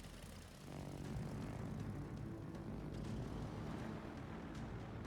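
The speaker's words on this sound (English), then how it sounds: "No, we'll come back with some more torpedo planes." Torpedo plane engines drone in a World of Warships battle, a propeller aircraft hum that swells in after a brief quieter moment and then holds steady and fairly faint.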